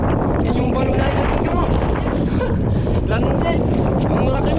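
Strong typhoon wind roars over a small fishing boat at sea, loud and steady throughout, buffeting the microphone in continuous gusts, with a voice talking under it.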